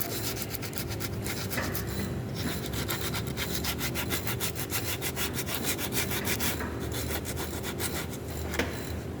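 Sandpaper rubbed by hand along the edges of a brake pad, a steady close scratching with rhythmic back-and-forth strokes throughout, no voices.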